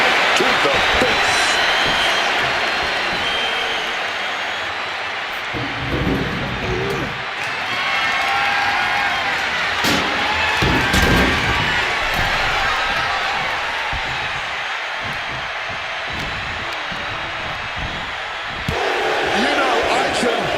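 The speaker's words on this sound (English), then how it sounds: "This crowd is looking to bring the house down tonight." Dense arena crowd roar in WWE 2K25 during a Roman Reigns vs John Cena match, a steady loud wash of cheering with thuds and slams of in-ring impacts scattered throughout, with commentary running over it.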